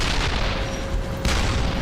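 Loud tank gunfire in a battlefield clash at Kursk, a sustained roaring barrage of booms with a fresh heavy blast about midway, dense and continuous with no speech.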